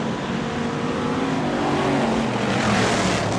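Race cars at Lee USA Speedway roar past as they accelerate into turn one, a loud broadband engine drone that swells steadily.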